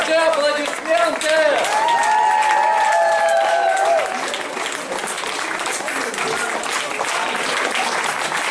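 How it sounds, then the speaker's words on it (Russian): Audience applause at a charity auction during a bard festival, steady dense clapping from a crowd throughout, with a voice briefly singing or calling out over it early on before the clapping continues alone. "И ваши аплодисменты!"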